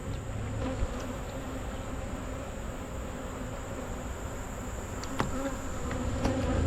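A honeybee colony buzzes steadily during a mid-September hive inspection, a dense close hum with a few brief louder passes of bees near the microphone, with no talk.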